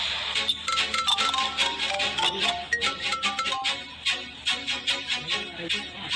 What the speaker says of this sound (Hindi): अरे एक फोन आ रहा है।